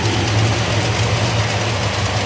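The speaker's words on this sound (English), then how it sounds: "I did the headers, but they're whipping a little bit. You can kind of hear that leak." A 1971 Plymouth Road Runner engine idles with leaking exhaust headers, a loud steady low rumble with a rough, pulsing chuff throughout and no voices.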